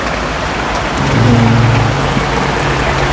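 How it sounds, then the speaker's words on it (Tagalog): Steady heavy rain hisses and patters continuously, with a low hum briefly rising beneath it in the middle. "umuulan no?"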